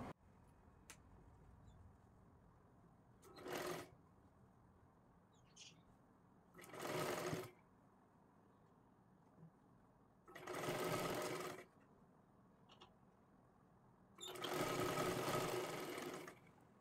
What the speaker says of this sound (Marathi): हे व्यवस्थित पकडून आपल्याला शिलाई करायची आहे